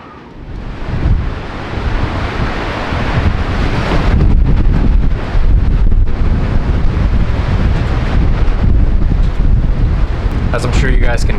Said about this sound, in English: As I'm sure you guys can hear, the wind is going absolutely outrageous.